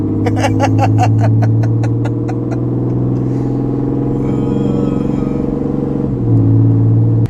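A 2019 Ram 3500 Limited pickup truck accelerating from inside the cab, its engine drone rising in a loud, steady rumble with a shift near the end and light voices under it.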